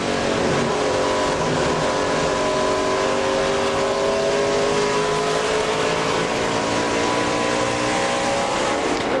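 A loud ARCA stock race car engine at Gateway International Raceway holds a sustained high-revving throttle, its pitch drifting slowly as it roars continuously without pause.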